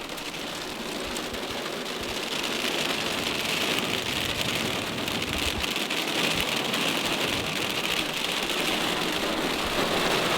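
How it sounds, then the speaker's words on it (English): Hail and heavy rain drum on a car in the Elan Valley, Wales, as a dense, steady, loud patter that holds without pause for about ten seconds, with no voices. "we're getting lots of hail"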